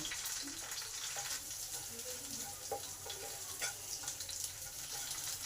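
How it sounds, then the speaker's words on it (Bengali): Garlic paste fries in a pan alongside other ingredients, producing a steady close sizzle with intermittent light scrapes and clinks of stirring, fairly quiet, without speech. "এই রসুনটাকেও একটু ভালো করে ভেজে নেব।"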